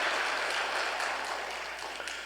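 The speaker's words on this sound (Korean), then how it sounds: "우리 목사님께 따뜻한 박수 한번 보내주세요" Church congregation clapping for the pastor during a Sunday service, a broad, even patter of many hands that stays moderately loud and gradually thins toward the end, with no talking on top.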